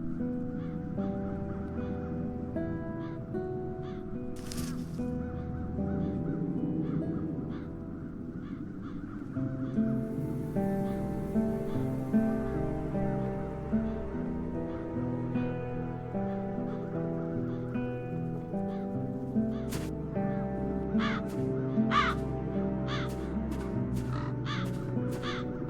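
Crows in the video game The Dark Eye: Chains of Satinav give repeated harsh caws and short calls over a layered musical ambience, with scattered sharp accents toward the end.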